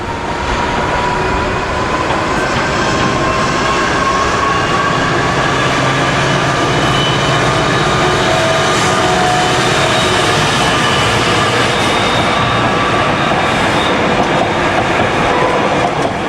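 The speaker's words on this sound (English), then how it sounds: "A National Power Class 59, straight out of the box, on National Power coal empties at Nottingley in 1995" A National Power Class 59 diesel locomotive hauls empty coal wagons at Knottingley in 1995, with a loud, sustained engine drone and steady rail rumble as the train passes close by, and no talking.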